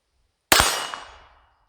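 A single sharp crack of a rifle firing Fiocchi standard velocity rimfire ammunition, loud and close, followed by a ringing decay that fades within about a second.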